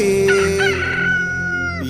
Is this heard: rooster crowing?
yes